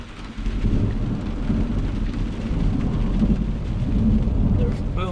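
Heavy rain drums steadily on an overland camper during a summer storm, with deep rumbling thunder rolling through the whole stretch, loud and close with no talk.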